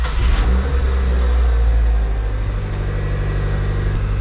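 An NB Mazda Miata engine, just back together after a 6-speed transmission rebuild, catches and settles into a loud, steady idle rumble close by.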